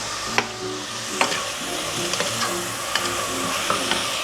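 Onions and leeks sweating in a pan, a steady close sizzle broken by regular spoon scrapes and light knocks as they are stirred.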